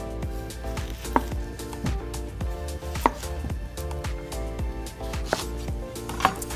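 Knife chopping red onion on a board in a home kitchen, a run of crisp, evenly spaced cuts with a few louder strikes, over a steady tonal background and with no talking.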